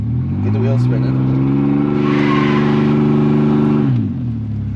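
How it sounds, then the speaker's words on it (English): A car engine revs hard and steadily while the wheels spin during practice at a dirt track, a loud continuous roar rising and then dropping off after about four seconds, with voices underneath. "Get the wheels spinning."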